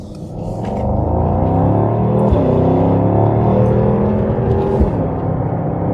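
A 2024 Mercedes-AMG GT 63 with rear-wheel steering pulls through a tight turn, its engine holding a loud, steady low roar with shifting pitch, heard from inside the car with no talk.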